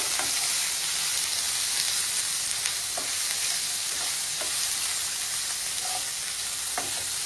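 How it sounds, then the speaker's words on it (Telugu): Paneer cubes frying lightly in hot oil, a steady bright sizzle with scattered crackles and spatula taps, close and moderately loud, no speech. "అదిగోండి పన్నీర్ వేస్తున్నాను. లైట్గా ఫ్రై చేసుకున్నాం."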